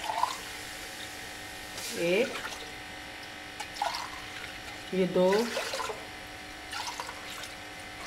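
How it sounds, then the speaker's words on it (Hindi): Cups of water are poured one after another into a cooking pot for rice khichdi, making several separate splashy pours while someone talks and counts over them. "ये हम पानी डाल लेंगे 6 कप"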